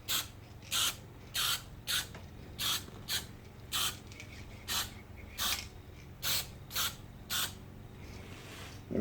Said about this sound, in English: And we'll just spray the underside as well.